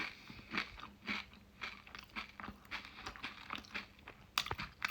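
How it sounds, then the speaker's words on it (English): Close, quiet bites and chewing of a crunchy sfogliatelle pastry in Naples, Italy, with a series of crisp crackling crunches in an uneven rhythm and no talking. "It's still as crunchy"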